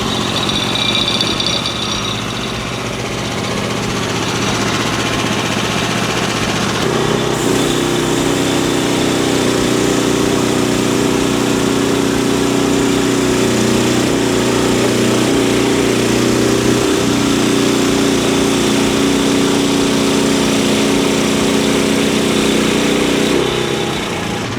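A Frontier portable sawmill engine runs steadily after the choke is turned off, warming up with a loud, continuous drone that holds for the whole stretch and shifts slightly in pitch partway through.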